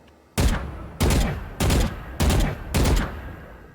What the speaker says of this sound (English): Which is why I recommend using about 3-round bursts when you strafe